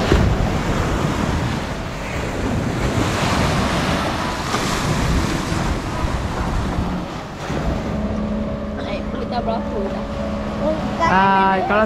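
Sea waves washing ashore at Tanjung Bidara beach, Melaka, with strong wind buffeting the microphone, a continuous surf roar that thins out toward the end.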